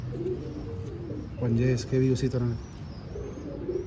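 Dubai pigeons coo in short rhythmic bursts, close and clear, with a voice speaking over them.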